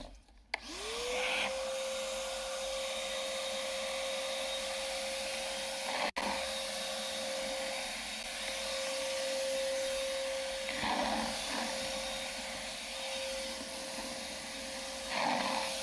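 Shop vac drones steadily across a floor being cleaned before an epoxy coating goes down, starting up abruptly and holding a loud, constant whine with a brief knock midway and slight shifts as the nozzle moves.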